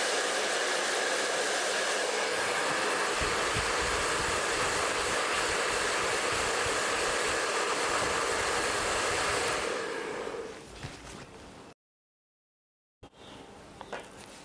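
A blow dryer runs loud and steady at close range while styling hair into curls, then cuts off abruptly near the end before faint handling noises follow.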